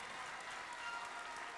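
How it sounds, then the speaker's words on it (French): An audience at a cooking competition event applauds the competing candidates, a soft, steady wash of clapping heard from some distance for the whole moment. "Je vais bien sûr vous demander maintenant d'applaudir les candidats qui ont concouru ce matin"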